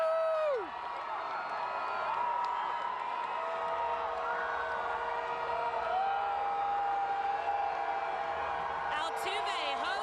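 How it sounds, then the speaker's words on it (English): A dense crowd at the Houston Astros World Series championship parade cheers and whoops continuously, with shouts, whistles and scattered clapping, while a voice talks over it. "the crowd carried away in the moment"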